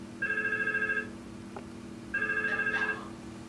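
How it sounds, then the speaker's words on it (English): A mobile phone rings with an incoming call routed through a VoIP PBX line, giving two clear electronic ring bursts about a second apart in a quiet room. "the mobile will also ring simultaneously"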